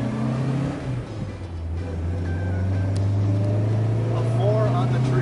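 A classic Honda S600 car engine driving, with a steady low drone that builds slightly as it pulls away, while people talk over it.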